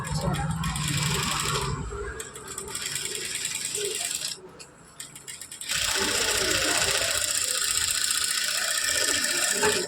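A sewing machine stitches a neck design into a garment, its rapid mechanical rattle running in bursts and briefly pausing before resuming steadily up close.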